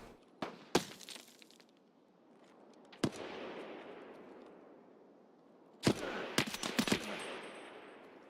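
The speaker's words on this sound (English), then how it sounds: "Somebody's shooting at me from the road." Gunshots from a road in SPT Tarkov crack out with echoing tails: a quick pair early, a single shot around three seconds, then a tight cluster of several shots near the end, moderately distant.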